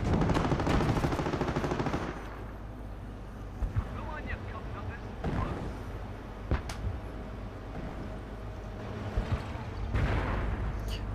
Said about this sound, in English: Friendly air asset there, doing a strafing run.